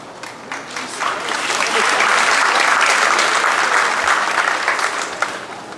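An audience at a middle school moving-up ceremony bursts into applause, clapping swelling over the first two seconds into a full, sustained roar of many hands, then easing slightly toward the end.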